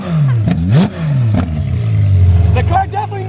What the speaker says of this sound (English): A little downshift right here.